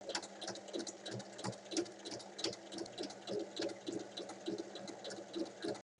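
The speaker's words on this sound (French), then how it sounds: "je vais venir fermer cette ouverture en faisant une surpiqûre" A sewing machine topstitching to close the opening of a drawstring bag, a faint steady mechanical whir with rapid stitching pulses running for several seconds before stopping abruptly, no voices.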